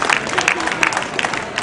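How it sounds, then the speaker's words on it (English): An audience applauds in a stage show, steady crowd clapping filling the moment as a volunteer is called up, with some speech mixed in. "Big round of applause."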